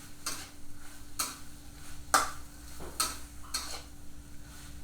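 Nam prik ong, a tomato chili paste, cooks quietly in a pot, stirred with regular scraping strokes about once a second and no talk.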